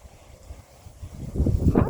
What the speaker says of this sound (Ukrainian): А, це вітер, бачите, подих вітру